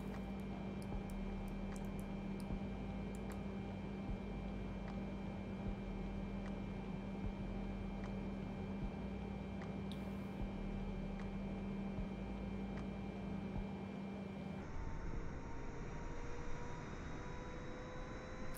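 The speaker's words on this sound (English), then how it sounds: "Right, we'll start the APU again." An A32NX airliner's auxiliary power unit spins up in a flight simulator, a steady loud turbine hum with a constant low drone and high whine that abruptly shifts to a rising, thinner spool tone near the end; no talking.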